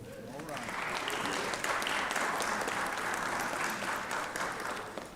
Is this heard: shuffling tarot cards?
no